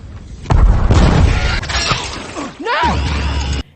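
A bomb goes off in a film with a loud, sudden booming blast, followed by crashing debris and a rumbling tail that cuts off abruptly.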